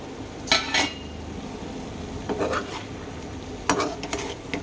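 Eggs being stirred with salt, chili powder and turmeric in a hot pan, a utensil scraping in a few bursts over a steady low sizzle with occasional light clinks, close and alone.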